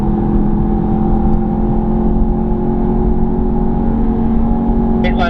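An Audi TTS powering out of a corner on a race track, a loud steady engine drone heard from inside the car with a brief rising note near the end.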